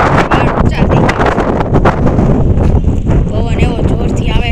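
Loud gusting wind sweeps across a high hillside and buffets the microphone without pause, while people talk beneath the roar.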